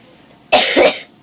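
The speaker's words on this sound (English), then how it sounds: "I'm sorry for my coughing" A single harsh cough, close and loud, breaking into two quick bursts before fading back to quiet.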